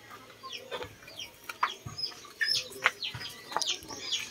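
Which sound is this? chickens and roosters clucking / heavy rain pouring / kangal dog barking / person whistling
chickens and roosters clucking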